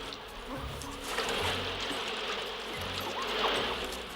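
A swarm of bees in an animated cartoon buzzes continuously, a dense hum that swells and fades softly as insects move close by.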